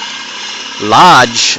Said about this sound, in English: drilling holes in steel